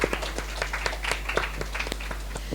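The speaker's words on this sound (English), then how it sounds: "please give her a round of applause for fantastic work" Applause from a bookstore audience at a book launch, a dense patter of many hands clapping at moderate volume across the whole stretch, with no clear voices.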